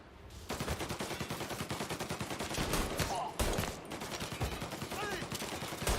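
Rapid, continuous pistol and gun fire in the video game Mafia Definitive Edition, loud and close, with dense overlapping shots and a few sharper cracks throughout.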